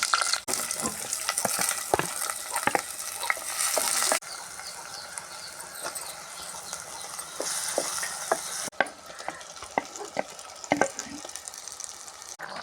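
Chillies frying in a pan, with crackling sizzle and intermittent scraping stirs across the whole stretch, moderately quiet and with no talking.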